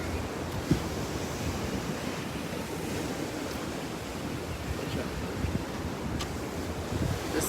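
Waves break and wind blows at Juno Beach pier, a constant broad roar of surf mixed with gusty wind buffeting the microphone, with no clear pauses.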